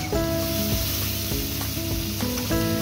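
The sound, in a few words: vegetables and carrot frying in butter and oil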